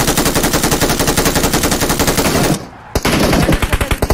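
Rapid automatic machine-gun fire in an online shooter game rattles loud and close in a continuous burst. It breaks off briefly, then resumes with fast, punchy repeated shots.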